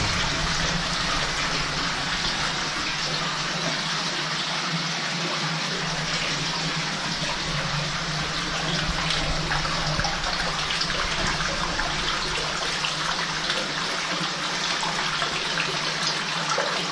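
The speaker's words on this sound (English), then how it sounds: "there goes the river stream. Runs all the way into that hole over there." A river stream flowing into a hole in a cave or outdoor setting rushes steadily and densely throughout, a loud, unbroken wash of water with no voices.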